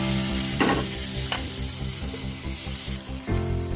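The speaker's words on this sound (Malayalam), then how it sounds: "ചെറുപയർ പരിപ്പൊന്ന് ബ്രൗൺ കളറാവുന്ന വരെ വഴറ്റുക" Moong dal and curry leaves sizzling steadily in hot oil while being sautéed until brown, with a spoon scraping and stirring the pan in a few distinct strokes.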